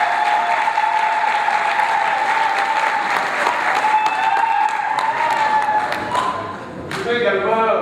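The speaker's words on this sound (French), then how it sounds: "Je vous demande donc une salle d'applaudissements." Sustained applause from an audience at a doctoral graduation ceremony, dense and steady clapping with a raised tone running through it, continuing throughout the clip.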